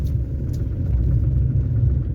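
A car climbs a snowy road with the engine held steady and off the gas, producing a continuous low, close rumble throughout with no talk.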